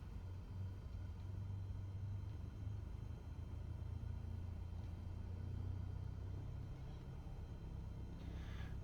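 Cessna C172 taxiing on a runway in Microsoft Flight Simulator: a steady, low engine rumble with a droning propeller tone, continuous and even throughout with no speech.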